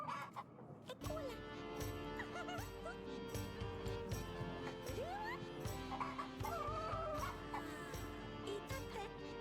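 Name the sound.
magic rooster clucking in the video game Yes, Your Grace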